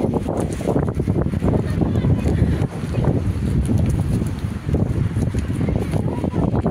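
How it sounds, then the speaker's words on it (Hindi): Very strong wind tears through a pine forest on a summer day in village hill country, a loud, constant roar that buffets the microphone in uneven gusts for the whole stretch. "इतनी तेज हवा हो रही है।"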